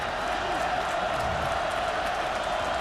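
A stadium crowd at a 2012 college football game between Utah State and Wisconsin roars steadily after an excellent kick return, a dense, sustained wash of cheering with no clear breaks.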